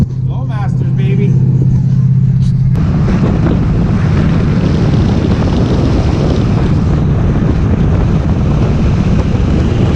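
A 1976 GMC Jimmy with Flowmaster exhaust roars on the road, a loud, steady low engine drone mixed with heavy wind rush, after a brief quieter moment at the start, with voice faintly present.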